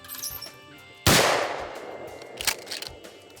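A single loud shotgun blast at a Wisconsin clay shooting range fires at a thrown clay target, a sharp crack followed by a fading rumble, with a fainter knock shortly after.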